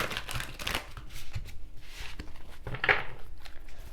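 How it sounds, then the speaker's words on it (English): Soft papery riffling and shuffling of tarot cards in short bursts, fairly close, with light rustles between them and no voices. "Let's do some shuffling and pull some tarot."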